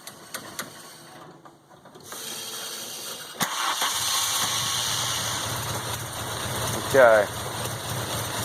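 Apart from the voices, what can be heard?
engine running with motorcycle carbs on MK2 GTI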